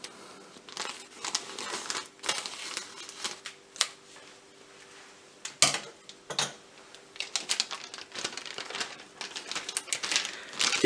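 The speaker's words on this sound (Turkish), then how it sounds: "Sushi norimizi güzelce bir açalım." Plastic packaging of sushi nori sheets crinkles and crackles up close as it is opened, in irregular bursts of rustling with brief quieter gaps, no voices.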